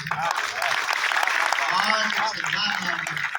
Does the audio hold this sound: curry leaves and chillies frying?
no